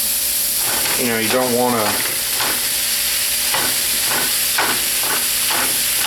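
Ground meat browning in a pan for homemade lasagna, giving a steady close sizzle with occasional stirring scrapes, while a person talks over it briefly.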